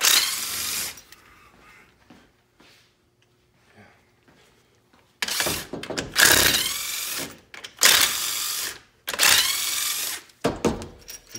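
A power tool runs bolts out of a 4L60E transmission pump on a 2004 Chevy 1500 4x4, giving several loud, close, whirring bursts of a few seconds each, separated by short pauses, after a quiet stretch.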